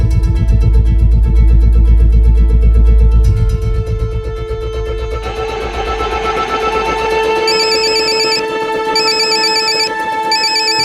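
An electronic phone ringtone plays loudly and repeatedly, a melodic chiming pattern that shifts partway through, with no voices.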